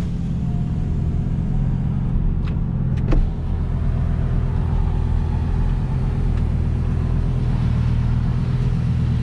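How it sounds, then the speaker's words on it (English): Interior of a 2007 Lamborghini Gallardo coupe with its 5.0L V10 running and the windows open, a steady low engine rumble filling the cabin throughout with a couple of brief sharp clicks partway through. "I want to see if you can hear some of this motor as well."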